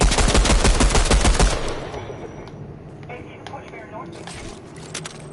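Rapid automatic gunfire rattles loudly in a burst of suppressing fire in the Fortnite video game, then cuts off into quieter game ambience with a few faint clicks and taps.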